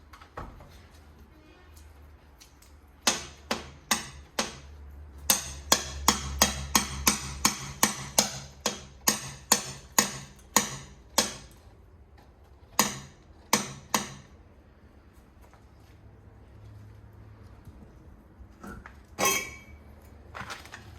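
A ratchet works a bolt loose on a Jeep CJ5 during its teardown. Sharp, distinct clicks come in fast, evenly spaced runs separated by quiet pauses, close and fairly loud with no talking.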